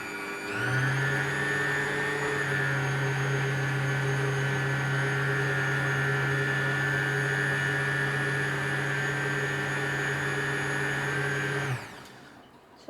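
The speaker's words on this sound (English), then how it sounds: "this is really a good mixer" Small, regular electric hand mixer creaming butter for chocolate walnut banana bread, a steady loud whirring motor drone holding for about eleven seconds before cutting off abruptly.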